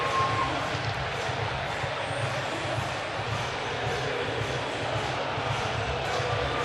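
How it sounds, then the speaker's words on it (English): Baseball crowd at T-Mobile Park rising to its feet as the Mariners win, a steady broad roar of cheering that holds evenly loud throughout with no distinct individual voices. "Crowd here at T-Mobile Park rises to its feet as the Mariners, who are off to a 5-8 start, are able to pull off a victory"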